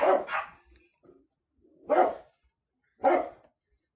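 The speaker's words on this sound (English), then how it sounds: "And it clearly has set off my dogs." A dog barks at home, a few sharp separate barks with pauses between them, loud and close with no talking.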